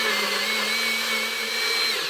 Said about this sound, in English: I'm going to add some water, and I'm going to blend it completely.